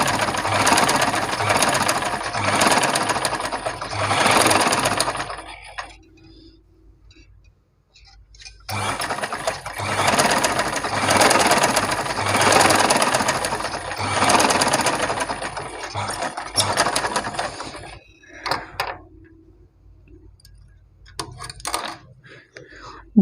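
A sewing machine stitching along the edge of a folded fabric layer, two long loud runs of fast rhythmic whirring separated by quiet pauses and short stops near the end.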